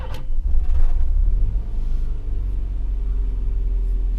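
Boosted Nissan Micra K11 engine, close and loud, with a deep rumbling idle that swells as the throttle is blipped early on, then settles back to a steady low drone.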